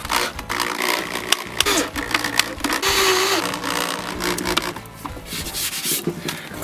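A screw gun drives 1 1/4 inch drywall screws into two pieces of drywall, making loud, gritty whirring and grinding bursts with rubbing and scraping in between, close up and with no talk.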